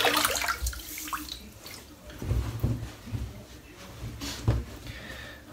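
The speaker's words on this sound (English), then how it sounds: "Right, let's wet the head." Water splashes and trickles as a head is wetted before a shave, with irregular pours and drips close by and no talking.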